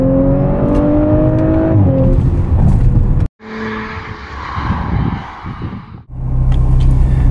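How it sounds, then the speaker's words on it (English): A 2017 Audi RS5's V6 turbocharged engine roars and revs hard, pitch climbing, then cuts briefly before another burst of engine noise and rumble returns. "it's now the V6 turbocharged engine. It sounds completely different"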